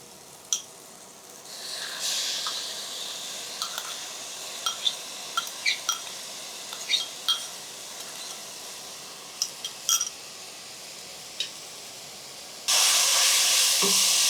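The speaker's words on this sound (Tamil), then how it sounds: "இப்போ வந்து இந்த அரைச்ச மசாலா போடுறோம்" Ground masala hitting hot oil for a chicken curry, a steady sizzle and hiss with scattered pops and crackles, growing into a louder, harsher sizzle near the end, close up with no talk.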